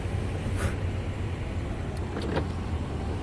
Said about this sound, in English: It rolls up. Rolls up a little slow, but it rolls up. That's the motor.